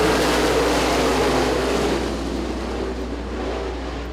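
Race cars roaring back to speed under the green flag at I-96 Speedway, a loud broad engine drone that gradually eases as the pack moves away.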